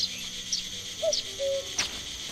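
Crickets chirping in the ambient night soundscape of The Night of the Rabbit adventure game: a few sparse, faint, high-pitched chirps spaced apart over a soft, steady background, with no talking.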